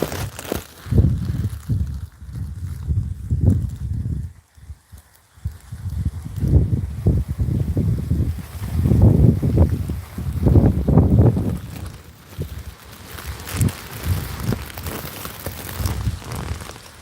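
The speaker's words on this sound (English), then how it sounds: "the wind is blowing." Gusting wind buffeting an outdoor microphone, low rumbling surges that rise and fall irregularly over many seconds, loud and close with no one talking.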